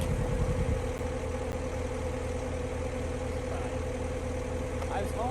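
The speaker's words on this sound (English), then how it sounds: "Jason's going to rev it up while I let it down and burn off the oil quick enough" Side-by-side UTV engine running steadily to burn off oil, a continuous low mechanical drone with a brief rougher rev at the start, held fairly close and unchanging.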